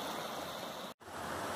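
A small spring-fed trout stream in a northern climate flows steadily, giving a constant, full rush of water with one brief dropout midway. No voices.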